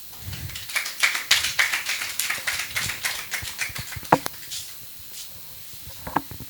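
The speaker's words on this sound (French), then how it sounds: "que je vous prie d'applaudir" Scattered audience clapping for the president of Benin's bakers' association, uneven and moderately loud, thinning out to a few isolated claps toward the end.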